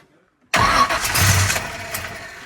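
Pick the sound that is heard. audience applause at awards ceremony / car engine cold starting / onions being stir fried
car engine cold starting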